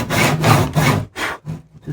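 A tenon saw cuts through wood for a 90-degree joint. About five quick, loud rasping strokes sound close by in a brisk back-and-forth rhythm, with brief pauses between them.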